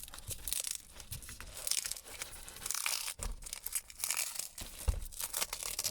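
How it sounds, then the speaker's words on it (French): Adhesive tape being peeled off in an attic while replacing a motorized air damper, close and irregular ripping and crinkling bursts with short pauses, no speech. "le scotch est enlevé"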